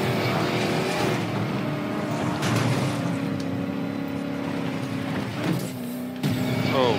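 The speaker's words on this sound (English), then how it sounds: "Can hear his engines whirring." Race car engines in Need for Speed Payback, a 1965 Ford Mustang among them, roaring and revving with shifting pitch through a fast drift, loud and continuous.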